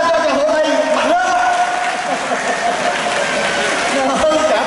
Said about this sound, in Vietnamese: Chúng ta cho tràng vỗ tay mạnh lên.